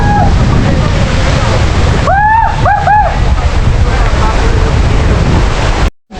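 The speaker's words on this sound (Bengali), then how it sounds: "প্রচুর বাতাস কি" Strong wind at Mahamaya Lake buffets loudly and continuously, with a few brief tonal calls or voices cutting through the gusty roar before a sudden cut near the end.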